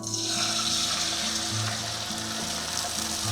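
Eggs sizzling and frying in butter in a stainless steel All-Clad pan on a stovetop, a steady, dense crackle that stays loud and unbroken throughout.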